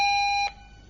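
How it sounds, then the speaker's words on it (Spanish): An activated alarm system in a castle sounds a loud, steady electronic tone for about half a second and then cuts off, leaving a faint ringing tail. "Este es el sonido de la alarma cuando está activada."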